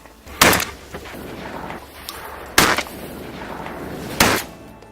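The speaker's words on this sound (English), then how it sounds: "If it's a closer shot, I'm gonna put it right on his head and pull the trigger." Shotgun blasts during duck hunting, three sharp loud booms spaced about two seconds apart, each with a short outdoor decay, against quiet background.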